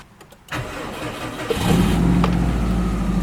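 A Subaru WRX engine cranks briefly, then catches and settles into a steady, fairly loud idle, with no other sounds around it.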